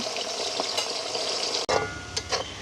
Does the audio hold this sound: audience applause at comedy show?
no